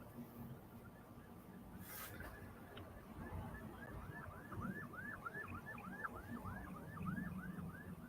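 Ambulance siren wailing far off in a repeating up-and-down pattern, faint beneath a steady low rumble of background noise, with a brief hiss near the start.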